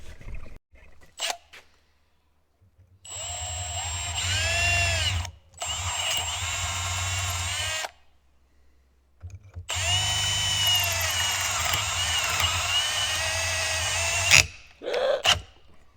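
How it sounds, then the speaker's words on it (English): A power drill runs in two long bursts, drilling out a stuck part during a maize harvest. The whine is loud and close, with quiet gaps and clunks between the runs. "I might have to try and have another go with it with the drill, I think."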